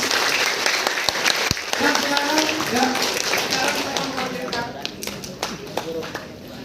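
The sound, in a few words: audience applause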